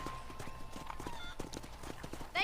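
Horse hooves clip-clopping in the Red Dead Redemption remake while riding with cattle, a quick, steady run of hoof beats under faint background ambience.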